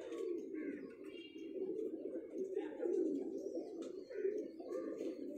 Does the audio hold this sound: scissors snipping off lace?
no